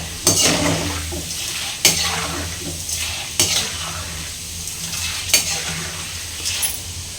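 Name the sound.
chana dal frying in hot oil in a pan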